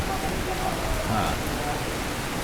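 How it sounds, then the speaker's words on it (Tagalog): Steady rain patters on a house roof, heard from inside, in a continuous hiss, with drops falling throughout and no break. "pumapatak na naman ang ulan sa bubong ng bahay"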